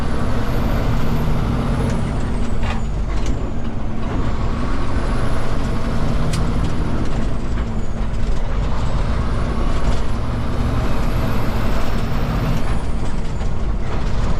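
Peterbilt 389 semi truck rolling in neutral while the driver hunts for a gear, a steady loud diesel drone and road rumble running the whole time with rising and falling engine whine and a few sharp air hiss bursts.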